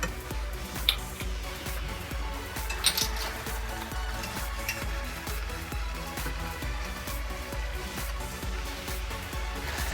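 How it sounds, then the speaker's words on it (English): A spoon stirs tortiere filling in a pot, making steady, rhythmic clinks and scrapes against the metal, close and fairly quiet, with a few brighter knocks standing out. "get stirring that in"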